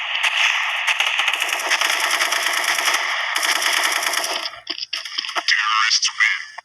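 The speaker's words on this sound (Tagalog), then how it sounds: "Ito ang pinakalumang AK dito, AK-47." An AK-47 rifle fires in a video game, first as a long, unbroken rattle of rapid automatic shots for several seconds, then as a few shorter, choppier bursts.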